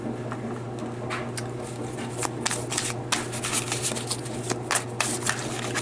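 Tarot cards are shuffled and drawn by hand in a steady stream of soft riffling and sharp flicking snaps, close and clear over a low constant hum, with no talking.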